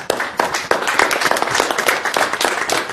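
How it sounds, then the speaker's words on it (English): Members of a public safety committee give a short round of applause in a meeting room, a brisk burst of close, overlapping claps with no talk. "I think you deserve a round of applause from us as well"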